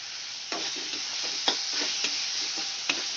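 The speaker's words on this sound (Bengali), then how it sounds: "আমি ভালো করে কষিয়ে নেব টমেটোটা" Chopped tomatoes cooking down in a pan with turmeric and salt, a steady soft sizzle broken by occasional light clicks and scrapes of a spoon stirring, close and continuous with no talk.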